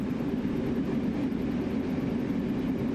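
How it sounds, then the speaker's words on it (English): An NJ Transit train runs in the Train Sim World 3 simulator with a steady, continuous mechanical rumble that stays loud and even throughout, with no talking. "What a beautiful train it is,"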